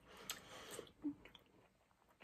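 Crunchy Valentine's dessert treats, such as chocolate-dipped strawberries, are chewed close up in a few crisp bites with soft mastication between them, nearly quiet and with no talking.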